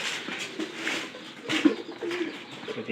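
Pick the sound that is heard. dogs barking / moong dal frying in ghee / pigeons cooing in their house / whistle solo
pigeons cooing in their house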